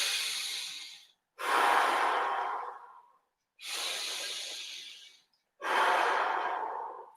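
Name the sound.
breathing during a finger-pulling exercise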